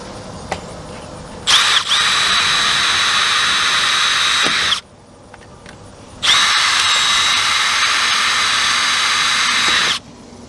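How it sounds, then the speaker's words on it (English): A loud electric drill with a 1/8 inch bit whines in two sustained runs drilling out a rivet on a Dometic refrigerator, the second longer, separated by a brief quiet pause. "Drill the old one out with an 1/8 inch drill bit."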